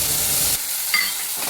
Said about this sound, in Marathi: जिरे, हिरवी मिरची आणि लसूण, चला आता मी फ्राय करून घेते.